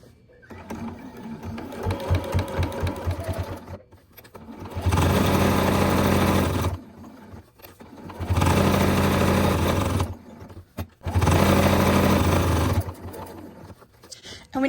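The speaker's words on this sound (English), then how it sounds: "you can use whatever you would normally use on your sewing machine" Home sewing machine stitching through layered fabric for a coaster, a steady mechanical whir in three sustained bursts separated by short pauses, with brief slower stitching before them.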